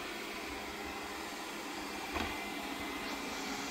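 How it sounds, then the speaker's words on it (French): OKP K2 robot vacuum cleaner running indoors, a steady, even whir and hiss held at moderate level throughout, with one brief soft knock partway through. "comme vous pouvez entendre, l'aspirateur robot, le K2 de chez OKP, ne fait pas trop de bruit"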